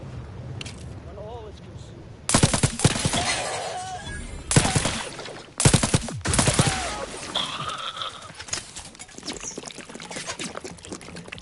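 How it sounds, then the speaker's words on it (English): Biomass weapon firing in Outer Worlds 2, several loud bursts of shots with splattering, gushing tails amid game sounds, a voice talking in between. "Now the biomass weapon kicks ass."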